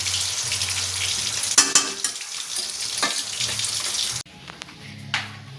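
Shrimp curry sizzles steadily in a pan while a utensil stirs and scrapes it, with a few clinks, and a faint running-water sound appears near the end.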